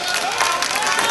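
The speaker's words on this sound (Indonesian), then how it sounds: "boleh berikan tepuk tangannya" Applause at an Indonesian regional election debate in Gresik, 2015: a crowd claps and cheers in a short, dense burst that fills the hall for about a second.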